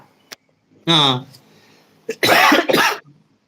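A short voiced sound, then a pause, then two harsh, loud coughs close to the listener.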